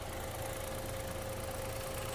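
A Chevrolet Onix Plus engine idles with the clutch pedal pressed, giving a steady, even hum with a faint, regular underlying pulse, heard from inside the car with no talking.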